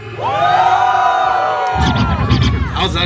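A crowd at a breakdance battle during a Hmong New Year event cheers loudly, sustained high whoops and shouts that give way to a burst of mixed yelling and clapping noise.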